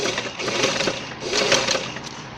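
A sewing machine stitches stretch fabric in a quick, steady mechanical whirr with slight surges in speed, heard close and alone.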